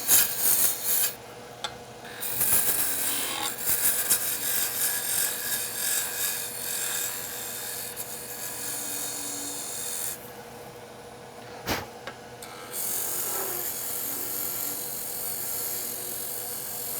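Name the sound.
spindle gouge cutting wood on a lathe, turning a mortar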